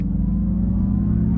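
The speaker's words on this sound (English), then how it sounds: "It makes a weird little whir as we're driving along" A 2024 Acura ZDX A-Spec electric car driving through a tunnel, a loud steady low rumble of road and tunnel noise with a faint whirring hum, continuous throughout with no voices.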